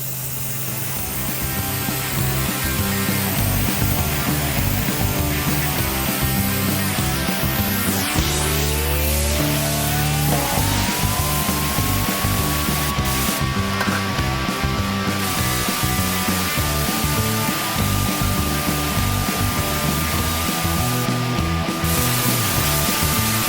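Compressed-air spraying of candy automotive paint hisses continuously and close, with a rising whine of a compressor or motor climbing in pitch and holding steady, and bursts of hiss as the gun triggers.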